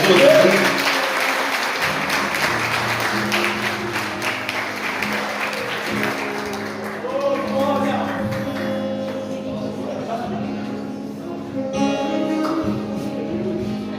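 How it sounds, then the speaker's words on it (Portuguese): Sustained applause from a church congregation at a morning service, steady clapping throughout with a voice and music carrying underneath toward the end. "Pode aplaudir, Senhor Jesus."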